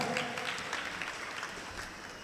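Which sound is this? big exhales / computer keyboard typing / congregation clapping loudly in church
congregation clapping loudly in church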